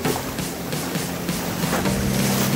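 Cold ocean waves break and wash onto a beach in a loud, close, continuous rush of surf, with no talking.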